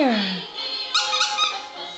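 A dog's squeaky toy squeals in high, wavering squeaks at close range, several squeezes in quick succession, with a person speaking over them.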